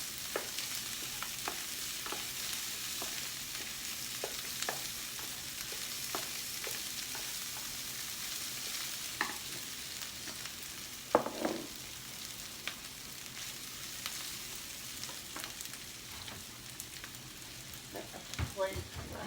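Shrimp fried rice sizzles and crackles steadily in a hot pan, with frequent clicks and scrapes of stirring and tossing, fairly close and continuous throughout.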